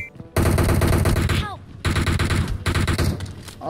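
Rapid automatic gunfire aimed at the player in a video game, two long loud bursts of close machine-gun fire separated by a short pause, followed by a brief third burst, with a faint whistling tone between volleys.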